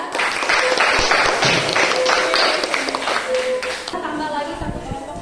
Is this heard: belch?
no